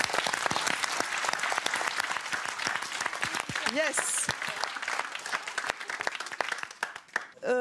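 An audience claps steadily in sustained, dense applause, with a brief voice cutting through near the end.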